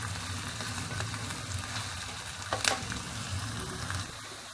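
Onions frying in oil until golden brown for Bombay biryani, a steady dense sizzle with crackling bursts and a louder pop near the middle, continuous throughout with no talking.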